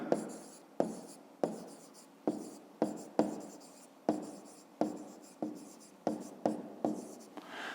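A pen writes on paper in short scratchy strokes, about a dozen distinct bursts with brief pauses between them, close and quiet with no talking.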